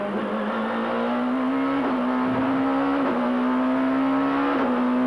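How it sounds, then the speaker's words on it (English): A BMW SuperTouring race car engine from 1994 drones loud and steady at Val de Vienne circuit, its pitch stepping through several rapid gear changes without pause. "Just listen to how fast those gear changes are."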